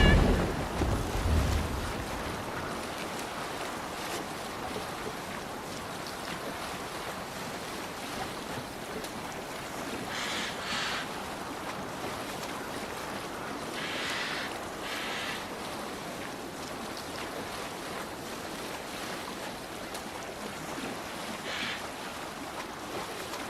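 A sailboat crossing ocean waves in Assassin's Creed Valhalla: steady rushing surf and wind wash over the whole stretch, with a few brighter splashes and creaks rising now and then.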